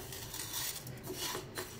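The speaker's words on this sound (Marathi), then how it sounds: "मूग डाळचा आवाज कसा येतो बघा, खणखण" Dry-roasted moong dal rattles in a pan as it is stirred, a faint, quick, gritty patter and scrape heard up close with no voices.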